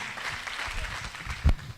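A seated audience claps at a Q&A talk, a brief burst of applause from the crowd with a sharper clap near the end.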